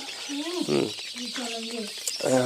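Free-range local farm chickens cluck and squawk in short, repeated bursts close by, several birds calling over a noisy background.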